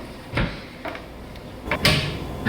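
Cabinet panels on a pivoting storage wall in a small modular apartment flap open, giving a few separate soft wooden knocks and clunks spaced out over a couple of seconds in a quiet room.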